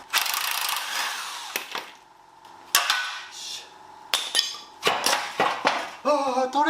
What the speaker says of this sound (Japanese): 反対側のボルトとナット外しちゃいます。